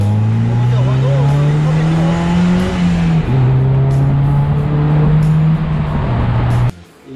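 A light 580 kg fun buggy with a 105-horsepower Renault engine accelerates hard from second gear, its loud, close engine note climbing steadily with a couple of quick gear changes before cutting off abruptly.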